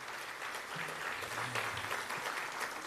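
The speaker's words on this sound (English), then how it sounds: "can we give a round of applause to the Lynwood Education Partners Foundation" An audience at a school district State of the District event applauds, a dense steady clapping with a faint voice underneath.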